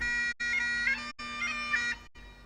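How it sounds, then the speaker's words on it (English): Bagpipes play in theHunter: Call of the Wild's Scotland setting: a steady droning tone under a wavering chanter melody, moderately loud, broken by a few brief silent gaps. "I have some bagpipes."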